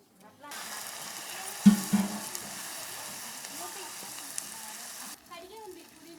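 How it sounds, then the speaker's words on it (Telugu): Tempering spices for chutney crackle and sizzle in hot oil, a dense frying hiss with a couple of sharp pops early on, continuing steadily before cutting off. "పచ్చడికి తాలింపు"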